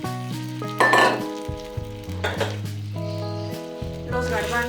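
Potatoes, chickpeas and nopales sizzling in a frying pan as they are stirred, a soft crackle sitting under prominent background music with a few light utensil clinks.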